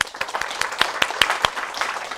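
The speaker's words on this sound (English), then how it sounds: "let's give Drew another round of applause." A short burst of audience applause for a guest speaker at a university database lecture, with individual hand claps standing out in an uneven rhythm over a light wash of clapping.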